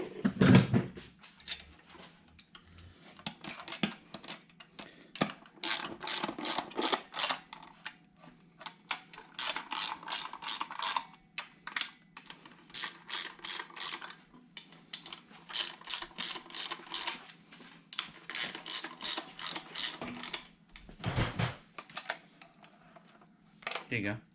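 Head bolts on an Allis Chalmers C engine are tightened with a ratchet, giving repeated bursts of rapid close clicking with short pauses between bolts, and quiet talk in between.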